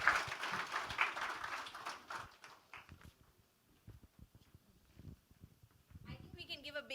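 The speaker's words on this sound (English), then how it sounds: "I think we can give a bigger round of applause." An audience at a panel discussion applauds in a burst of clapping that fades out within a couple of seconds, followed by a person talking.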